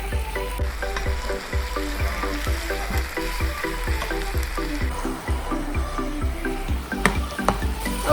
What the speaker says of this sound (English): you simmer it until the sauce is fully absorbed into the dumpling